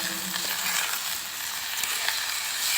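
Vegetable bhaji with turmeric sizzling steadily in a pan, a loud continuous hiss close by with faint scrapes of stirring under it.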